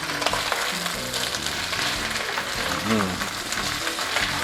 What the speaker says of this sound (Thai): ปุ๊ป้าปุ๊ป้าแบบนี้ออกมาคือน้ำมันมันเริ่มออกมานะครับ